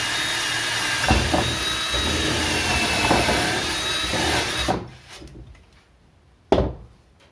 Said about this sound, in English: I'll just drill a 1/4 inch hole through the two lower stretchers